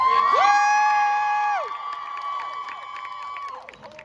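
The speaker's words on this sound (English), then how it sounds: "Give her a round of applause." A crowd at a Scentsy World Tour event in Raleigh cheers loudly as a speaker takes the stage, with sustained high-pitched whoops and shouts over a steady roar that fades slightly after a few seconds.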